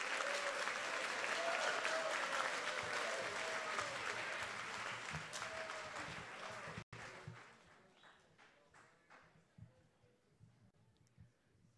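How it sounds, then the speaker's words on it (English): Audience applause at a high school honors program for students, a dense crowd clapping that starts loud and sustained, then thins after a brief break into scattered, fading claps. "Everyone, please give these students a round of applause."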